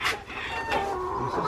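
Small hens cluck in short bursts close by, a few soft calls and clucks over a quiet background.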